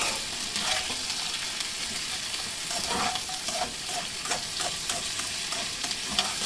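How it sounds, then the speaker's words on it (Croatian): Onion sautéing with salt in a pan gives a continuous close sizzle with frequent scraping stirs layered through it, steady and fairly loud, no voices. "malo luka, lepo fino dinstati"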